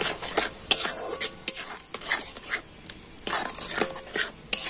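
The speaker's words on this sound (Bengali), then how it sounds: "আর এখন আমি এই সমস্ত কিছু একটুখানি ফুটিয়ে নেব।" Palm fruit pulp mixed with coconut powder and a little salt, stirred in a pot as it heats, with repeated scraping and clinking strokes of a spoon against the metal at a steady, moderate pace.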